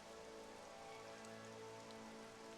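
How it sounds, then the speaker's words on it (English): Steady rain pours down in the video game Dragon Quest XI, a dense, constant hiss of drops hitting surfaces that fills the whole moment without letting up, with no voices over it. "This rain is really bad,"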